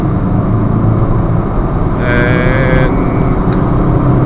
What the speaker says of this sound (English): Now we're going to do a 0 to 60 test.